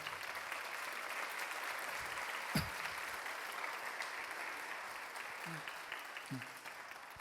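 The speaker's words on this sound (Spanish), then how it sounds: "Den un aplauso al Señor" Applause from a church congregation during a sermon, a sustained dense patter of clapping across the hall with a brief knock and a few faint voices or shouts mixed in.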